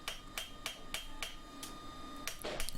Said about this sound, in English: You keep hammering it gently and it takes the hammer marks out